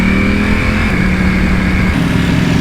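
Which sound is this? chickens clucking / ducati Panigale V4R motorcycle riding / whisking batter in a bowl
ducati Panigale V4R motorcycle riding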